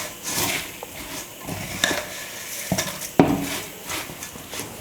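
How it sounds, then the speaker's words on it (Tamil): A ladle stirs puffed rice coated in hot jaggery syrup, giving soft scraping and rustling with a few sharper clinks against the vessel, close and fairly quiet with no talking. "கரண்டி வச்சு நல்லா பொரியோடு கலந்து கொடுங்க"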